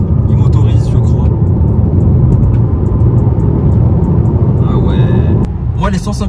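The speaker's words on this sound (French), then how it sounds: "Petite accélération" A Mercedes CLA 200 d diesel in AMG trim picks up speed from a start, a steady low engine drone and road rumble heard from inside the cabin, easing off near the end as a brief voice cuts in.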